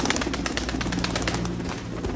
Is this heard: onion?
no